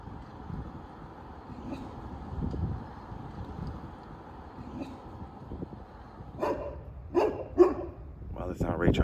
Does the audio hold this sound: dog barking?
yes